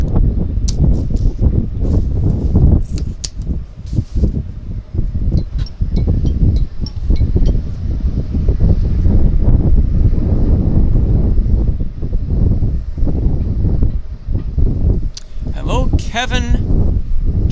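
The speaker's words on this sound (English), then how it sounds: "the wind has picked up, something fierce." Strong gusts of wind roar and buffet the microphone at a harbour airport, a loud continuous rumble with rustling, while someone talks over it and a brief chirp or whistle appears near the end.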